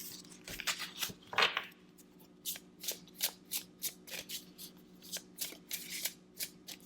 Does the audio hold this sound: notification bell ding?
no